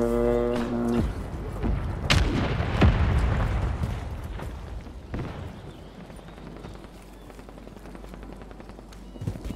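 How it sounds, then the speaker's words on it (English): Cluster bomb explosions in Call of Duty Warzone Resurgence go off in a rapid string of booming bursts over the first few seconds, then fade into rumbling debris and ambient game noise. "someone put a cluster bomb right here"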